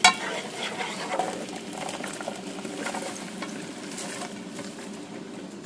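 Garlic and chopped vegetables stirring and frying in a pan, a soft steady sizzle with light scraping, close and moderately loud, no talk.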